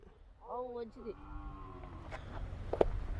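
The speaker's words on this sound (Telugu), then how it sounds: "ఇది ఒక ఆవు" A cow gives a drawn-out, low moo up close, followed by rumbling outdoor background noise.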